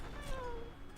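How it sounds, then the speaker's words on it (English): A cat in an indie video game gives one faint, drawn-out descending meow, partly buried under a steady wash of background game noise. "Such a cute little kitty."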